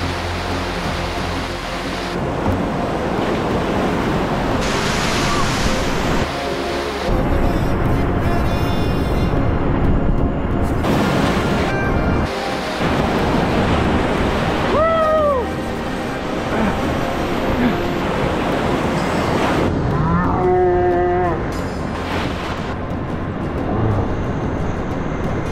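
River rapids rush loudly and continuously around a solo canoe run with a spray deck fitted, a dense roaring wash with splashes surging throughout and faint whoops or calls rising briefly above it.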